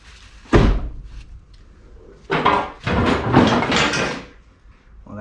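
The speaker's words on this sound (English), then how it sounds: "my door collapsed because my passenger door strut is not that good anymore" A car passenger door on an Autozam AZ-1 with a worn door strut drops shut, a single heavy thunk at first, followed by a few scraping, rattling bursts close by.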